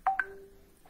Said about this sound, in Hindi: टेलीफोन पर एक गीत के जरिए, नूतन जो सुजाता बनी है उसको सुना देता है